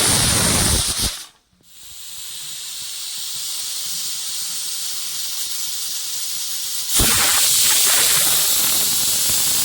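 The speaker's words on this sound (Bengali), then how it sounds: "হ্যাঁ, উনি সিটি মেরে দিয়েছেন, এবার হয়ে গেছে ওনার কাজ।" A pressure cooker cooking kalai dal with mustard oil and fish head over a gas flame lets out loud, steady hissing steam, breaks off briefly near the start, then surges even louder near the end, with no talk.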